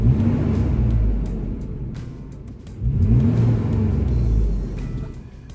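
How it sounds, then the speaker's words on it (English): A Toyota 4Runner TRD Pro with an open exhaust, heard as a deep engine rumble swelling twice as it revs up and eases off while driving, loud and close. "You can hear it the whole time you're driving. You are aware that there is a more open exhaust."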